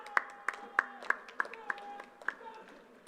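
Scattered applause at an 80th Independence Day flag hoisting ceremony: sparse, distinct claps in an uneven rhythm over about three seconds, fairly close, with a faint tonal background.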